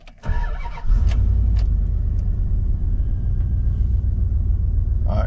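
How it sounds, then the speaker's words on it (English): A car engine cranks briefly with a short starter whir, catches and settles into a loud, steady, close-up low rumble of running idle. "Fixing to crank it over."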